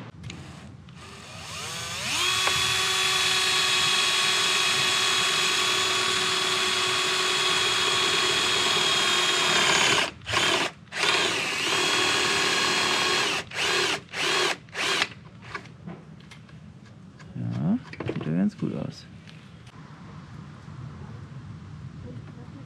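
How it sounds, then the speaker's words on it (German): A power drill with a step bit bores a cable hole in a camper van, a loud whining motor held steadily for several seconds, then cut into short on-off bursts as it bites through, with a voice talking near the end. "ich bohre jetzt hier mal ein Loch rein, einen Doppelbohrer, damit ich mein Kabel da hinten rauskriege"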